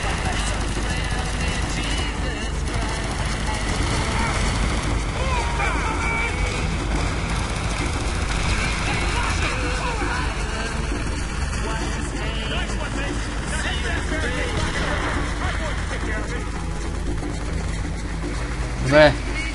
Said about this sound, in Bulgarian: Тук караме лодка, което е супер тъпо.